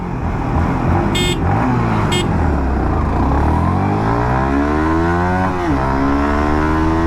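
A small commuter motorcycle pulls hard from first gear in an acceleration test, its engine pitch climbing steadily, dipping at a gear change, then rising again, loud and close throughout.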